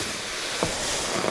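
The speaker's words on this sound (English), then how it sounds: "Hold my iron just slightly above it and steam it up." A steam iron held just above fabric for a coat being sewn releases a short, soft, steady hiss of steam, close and quiet, with no voices.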